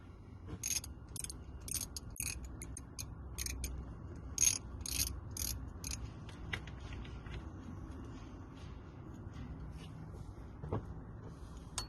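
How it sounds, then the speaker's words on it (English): A small socket ratchet works bolts loose on a VW T4 gear linkage, giving bursts of sharp, fast ratcheting clicks in the first half, then sparse faint taps over a quiet mechanical background. "Little socket on top here. Take these bolts off."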